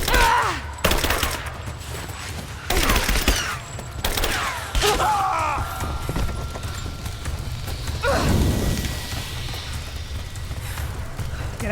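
Sustained firefight in Rise of the Tomb Raider, with repeated loud bursts of gunfire over a steady rumbling background and shouted voices mixed in.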